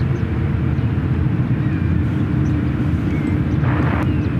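A Boeing 787-8 Dreamliner at San Francisco airport produces a loud, steady jet roar, broad and unbroken, with a faint higher whine riding on top.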